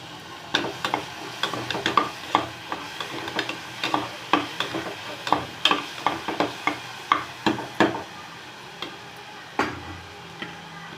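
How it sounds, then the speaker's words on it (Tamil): Tomato sautéing in a pan with curry leaves for mutton chest-bone soup, a rapid series of sharp spoon scrapes and taps over a light sizzle, close and clear, no voices. "தக்காளி கொஞ்சம் நல்லா வதங்கட்டும்"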